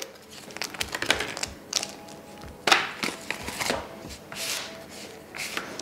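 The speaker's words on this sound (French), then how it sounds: "Alors, je les décolle du papier." Frozen ravioles du Dauphiné sheets are peeled off paper close up, a run of crisp crackling and tearing rustles in irregular bursts with brief pauses, alone without talk.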